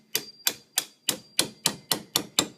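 Nine evenly spaced sharp chops of a knife cutting down a coconut, each a crisp knock with a short tail, repeating at a steady pace of about three per second with no talk.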